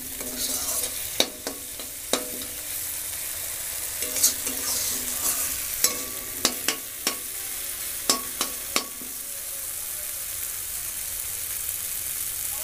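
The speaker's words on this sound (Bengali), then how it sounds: "মশলা দিয়ে তেল ছাড়তে শুরু করেছে, আর একটু কষে নেবো, আর একটু নাড়িয়ে চাড়িয়ে নেব।" Spice paste fries in oil in a pan while a spoon stirs it, steady soft sizzling punctuated by sharp, repeated clacks and scrapes of the utensil against the pan.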